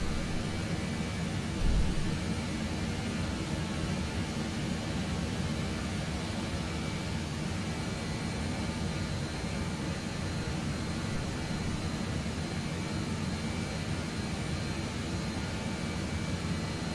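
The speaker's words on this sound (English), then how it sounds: "As you can see, the engines are synchronized." Jet engines of a Just Flight 146 airliner in Microsoft Flight Simulator 2020 roar in a constant, even broadband drone with a steady hum beneath, unbroken and loud for the whole span.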